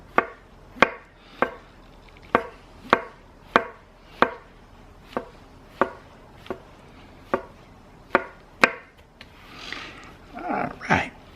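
Mushrooms are chopped on a board with a Fzkaly 8-inch hollow-edge chef knife, about a dozen crisp evenly spaced knocks, close and clear, ending with softer scraping as the pieces are gathered.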